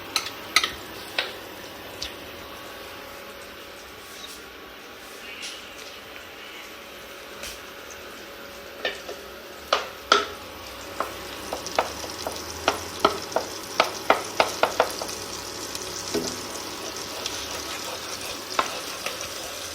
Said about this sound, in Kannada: ಇವಾಗ ನಿಮಗೆ ಬಟರ್ ಮೆಲ್ಟ್ ಆಗಲಿ.